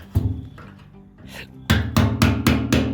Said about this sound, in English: Now with the screwdriver, she'll tap out on there and tighten it up.